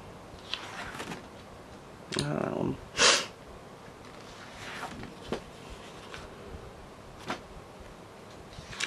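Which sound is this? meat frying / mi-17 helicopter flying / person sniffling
person sniffling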